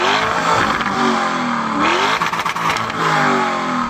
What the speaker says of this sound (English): Go on, rev it up.